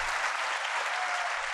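Management students in a BBD University audience break into loud applause after a speech, a brief burst of dense, sustained clapping at full strength.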